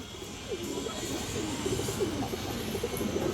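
A black female pigeon gives soft, low, repeated coos close by over a steady background hum.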